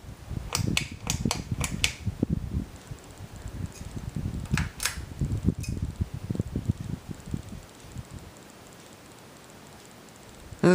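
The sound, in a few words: Canarm 52-inch ceiling fan running on low speed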